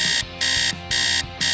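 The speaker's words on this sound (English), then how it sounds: "she didn't hear her alarm on her phone ringing" A phone alarm rings in a repeating electronic pattern, three loud bursts separated by short gaps, steady and close with no talk over it.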